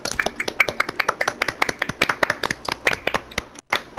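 Applause from a player's hands over voice chat in the game Modern Warfare, after piano playing: a dense, steady run of sharp claps for about three and a half seconds, close and fairly loud, with a short pause near the end.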